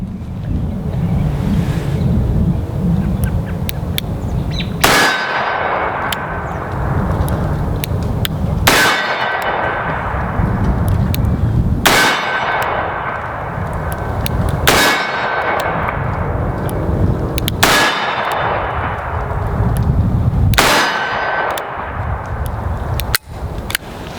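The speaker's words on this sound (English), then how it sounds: "So let's see if things change shooting it in double action." Smith & Wesson 629 .44 Magnum revolver with a 6.5-inch barrel fired double action outdoors: six loud, sharp shots spaced a few seconds apart, each with a ringing decay, over steady wind noise.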